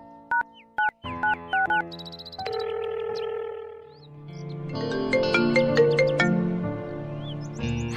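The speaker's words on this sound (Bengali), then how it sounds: "ওকে ফোন লাগা।" A phone ringtone plays as a bright electronic melody, first in short separate beeps and then in a fuller, louder tune that carries on to the end.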